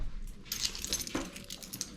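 A bunch of keys jangles up close in a few quick metallic clinks and rattles, bright and light, with a small cluster of sharper jingles in the middle of the brief moment.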